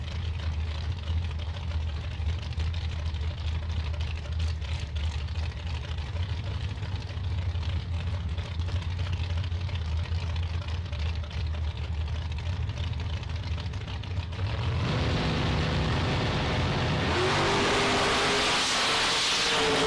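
Chevrolet S10 and a Camaro at a drag race, engines rumbling low and steady at the line, then a sudden louder roar of launching and accelerating near the end.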